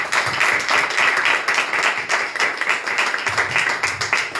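A church congregation claps steadily together, a dense continuous patter of hands that holds at an even level throughout.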